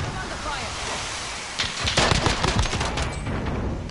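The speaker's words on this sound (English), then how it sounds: "Shotgun." A shotgun fires in a video game, a loud burst of blasts with a crackling, rushing tail that swells near the middle of the clip over steady background noise, with players talking.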